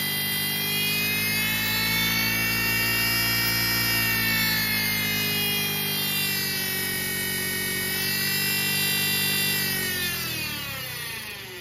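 A 1970 Pontiac Ram Air III engine with an original distributor revs hard and holds near 6,200 RPM, a loud sustained high-pitched roar with a rising harmonic whine that eases off at the end.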